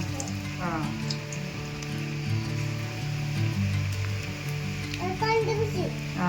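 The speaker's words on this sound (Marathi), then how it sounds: "भजी करते पिलू." Onion bhaji frying in hot oil, a steady close sizzle like rain on a surface, with a child's and an adult's voices over it.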